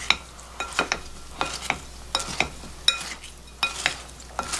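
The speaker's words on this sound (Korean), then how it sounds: "이렇게 섞어서" Cherry tomatoes with minced garlic, salt and chili flakes mixed in a bowl, heard as a close, steady rhythm of sharp clinking spoon strokes repeating roughly twice a second.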